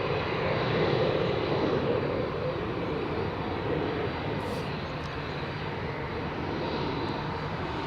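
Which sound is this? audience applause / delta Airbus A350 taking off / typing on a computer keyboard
delta Airbus A350 taking off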